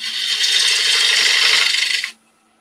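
A bowl gouge cuts wood on a lathe while a foot is shaped on a bowl, giving a loud, steady hissing shear that holds for about two seconds and then stops abruptly, leaving a faint hum.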